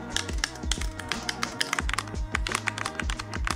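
Clicky buttons on a rectangle-style GameCube controller tapped in rapid, irregular bursts, sharp close-up clicks dense and continuous like fast typing, with no talk.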